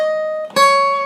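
A sustained guitar note rings clearly, then a brief pick attack brings in a brighter new note that keeps ringing; a short lead guitar interlude from a song, close and alone.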